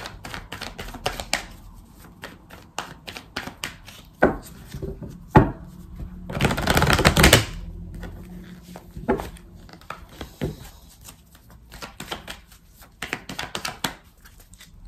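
A deck of tarot cards is shuffled and cut by hand, soft papery riffles and taps close by, with one louder burst of rapid shuffling in the middle.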